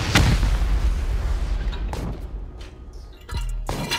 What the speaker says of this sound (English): We just shot off a bunch of turrets.